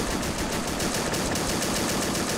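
Rapid, sustained .50 caliber machine gun fire against advancing tanks in an Army Men battle, a loud rattling stream of shots layered over general combat noise.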